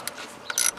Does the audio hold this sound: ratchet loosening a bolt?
yes